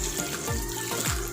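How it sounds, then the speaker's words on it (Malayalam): Water is poured into a pressure cooker holding garlic, green chillies and tomato for a traditional spinach curry, making a soft, steady splash that lasts little more than a second and is heard alone. "1/2 ഗ്ലാസ് വെള്ളം ഒഴിച്ചാൽ മതി. ഒരുപാട് വെള്ളം ഒഴിക്കണ്ട."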